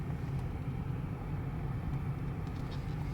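A BMW 650i Gran Coupe creeps forward after the brake is released, giving a soft, steady low rumble of engine and tyres heard from inside the car with no talk.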